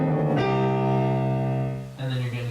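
Piano sounds a low C together with a high G, a sustained chord that rings clearly on its own, then shifts to a new voicing near the end.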